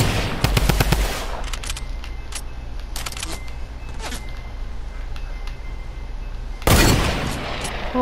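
A sniper rifle shot rings out in Fortnite, the first of a rapid cluster of sharp gunfire cracks near the start, and a second loud blast follows later over steady game ambience.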